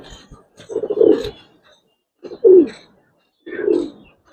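Giribaz pigeons coo in three distinct, close, throaty bursts separated by short silences, each a low rolling warble.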